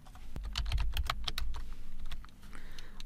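Keys on a computer keyboard clatter in a quick irregular run of soft taps, with a sharper press among them, close-up and fairly quiet.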